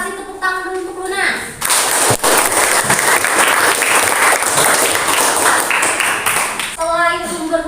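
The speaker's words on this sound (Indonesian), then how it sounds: "kita kasih tepuk tangan dulu untuk Luna" Classmates clap loudly for a student in an Indonesian classroom lesson, a dense burst of applause lasting about five seconds, with talk before and after.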